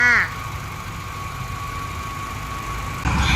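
A 2012 Toyota Hilux Vigo Champ Smart Cab pickup with a manual gearbox and a 2.7-litre petrol engine converted to LPG idles with its hood open, giving a steady, even mechanical hum. A voice briefly overlaps at the start.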